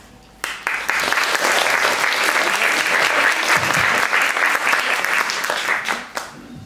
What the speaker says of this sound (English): Please applause for Corbin Neil Miles Jr.